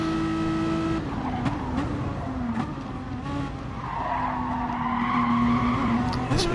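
A race car in Gran Turismo Sport, a Renault Megane Trophy, slides onto grass with a sustained tire squeal and skid over a droning engine, and the pitch of the engine shifts as the car loses traction.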